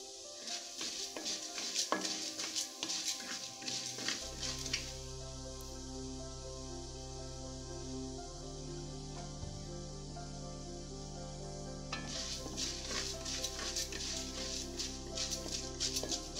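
Urad dal frying in oil in a pan, a steady soft sizzle with occasional scraping and metallic stirring clinks, quieter in the middle stretch and busier at the start and end.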